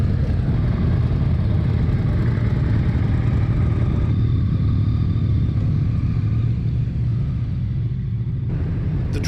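Motorcycles running on the Arlanda race test track during a cornering and braking course, a loud continuous engine rumble and clatter close by, with the roar easing slightly toward the end.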